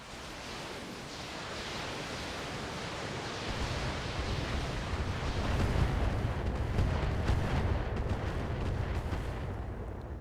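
Weapons fire in the Battletech mech game rolls on as a dense, continuous rumble of blasts and impacts, steady and fairly loud, swelling slightly toward the middle with no voices over it.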